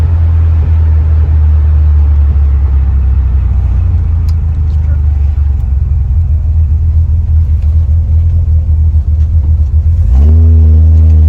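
A Ford Thunderbird engine rumbles loudly and steadily up close, then its tone shifts near the end as it comes down from a rev toward idle.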